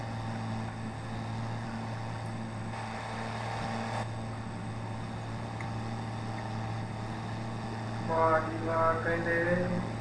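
An Arjun 605 4x4 tractor idling in neutral in Farming Simulator 22, giving a steady, quiet low engine drone that runs throughout, with a brief voice rising over it near the end.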